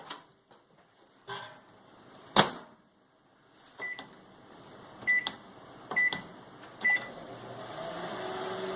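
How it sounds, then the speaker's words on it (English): A microwave oven heats a lime for about ten seconds. Scattered clicks and thumps are followed by a low hum and a short run of high electronic beeps, fairly quiet and without talk. "put the lime in the microwave for 10 seconds so it will be easier to juice"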